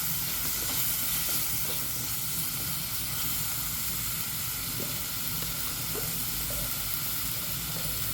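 Sardines and tomato cooking for Kerala meen peera give a steady close sizzle and frying hiss in a hot pan, with faint stirring scrapes and a few small pops throughout, no voices.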